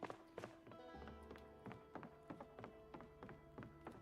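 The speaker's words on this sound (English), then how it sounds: "Am I hearing something bang against a door upstairs?" In the Project Zomboid video game, something bangs against a door upstairs in a steady series of dull thumps about every third of a second, quiet and muffled under a low tonal background.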